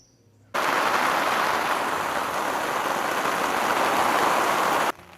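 Steady light rain patters continuously for several seconds at a hillside campsite, a soft even hiss that starts abruptly and stops near the end, with no voices.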